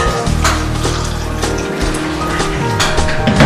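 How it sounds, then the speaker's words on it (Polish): Boiling water pours steadily over pine needles to brew tea, a continuous loud splashing fill with no voices. "Próbujemy jeszcze spróbować herbaty z igieł sosny, zaparzonych wodą"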